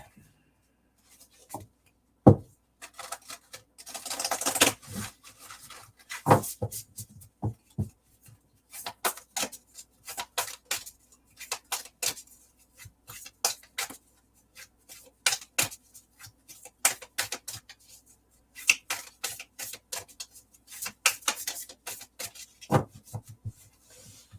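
Moonology oracle deck cards shuffled and drawn, with soft papery riffles, rubs and light taps coming in irregular bursts up close over a long quiet stretch, no talking.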